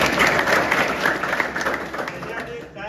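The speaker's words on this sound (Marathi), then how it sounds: "टाळ्या वाजवा सगळं." Applause from a gathered audience at a temple committee meeting, a dense burst of many hands clapping that fades toward the end, mixed with crowd murmur.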